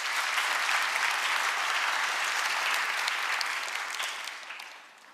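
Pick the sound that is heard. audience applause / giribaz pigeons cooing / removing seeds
audience applause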